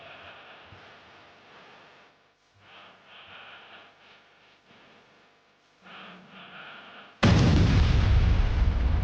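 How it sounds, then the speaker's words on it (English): A loud blast of an explosion sound effect erupts in a football locker room after Georgia at Auburn, following a stretch of low crowd and room murmur, then a sustained roaring boom. "Explosion, baby."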